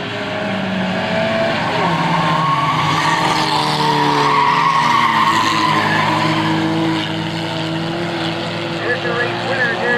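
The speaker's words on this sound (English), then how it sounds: "On in turn number 4, final lap for Jerry Bovair." Race cars scream through the final lap at a speedway, a loud sustained roar of engines with tires squealing through the turn while an announcer calls the action over the noise.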